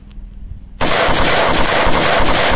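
Rapid gunfire emptying a 30-round magazine, a loud dense burst of shots that erupts abruptly after a quiet moment and continues without pause to the end.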